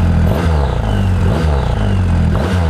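A Triumph Rocket 3 motorcycle with a 2.3-litre engine, heard while being ridden: a loud, close, deep engine drone that revs up in several surges, with some mechanical clatter and no talking.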